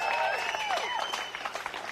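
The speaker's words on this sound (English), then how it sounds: "And one more round of applause to that amazing team" Applause for an election campaign team at a party victory event, a faint burst of crowd clapping under whistles and cheers, fading within two seconds.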